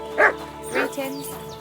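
A dog in the medieval role-playing game Kingdom Come: Deliverance II gives two short yipping barks followed by a softer whimpering whine, close and clear, with faint game ambience beneath.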